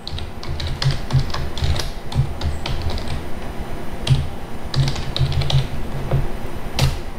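Fingers type code on a computer keyboard, a quick irregular patter of close key clicks with occasional heavier taps, such as a space or enter key.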